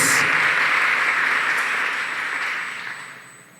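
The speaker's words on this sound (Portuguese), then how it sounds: "Aplauda Jesus por essa palavra" A church congregation applauds at the close of a prayer, a dense wash of clapping that is loud at first and then gradually tapers off.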